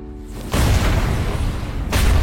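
A bomb vest explodes in an action film about a counter-terror special forces unit, a loud, sustained deep boom that swells after a quiet lead-in and surges again near the end.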